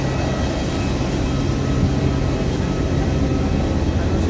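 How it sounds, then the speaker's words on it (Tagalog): Steady, loud broadband roar of an airplane at Boracay, a dense low rumble with a constant engine drone and no speech. "ito yung sinakyan namin ng aeroplano"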